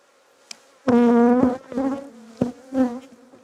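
A hornet buzzing close among agitated honeybees at an apiary, heard as a few loud, sharp, droning bursts with brief gaps between them.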